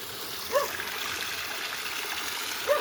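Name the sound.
water flowing back into a reservoir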